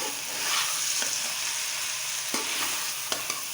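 Okra (bhindi) with masala frying in a pan while being stirred, a soft continuous sizzle broken by a few sharp scraping clicks of the spoon against the pan, no talking.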